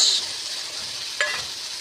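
Spices with onion and garlic sizzling in hot oil in a pan, a steady close fry hiss with a brief scrape of stirring partway through.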